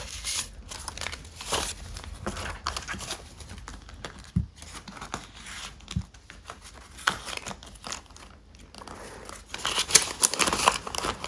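Cash banknotes being slipped into a paper budget envelope, producing close, steady crinkling and rustling of paper with soft handling taps throughout and no speech.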